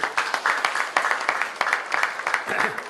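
Loud audience applause at an education conference on sports and national development, a dense, even patter of many hands clapping steadily for the whole stretch, alone.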